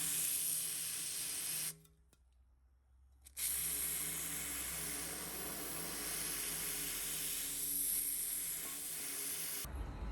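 An anti-rust coating sprays steadily inside a towbar tube, giving a continuous close hiss. It breaks off briefly for about a second and a half, then resumes and carries on to near the end.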